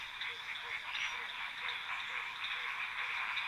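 A dense chorus of African frogs croaking in steady, overlapping pulses, loud and continuous throughout with no voices.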